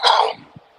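A man gives a single sharp, close cough, loud and brief, then fades to quiet.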